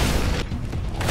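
A short, heavy boom from an explosion in the video game Code Vein, loud and dense with a rumbling low end that fades slightly over about a second.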